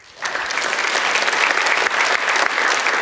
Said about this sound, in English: a big clap for the whole Float team.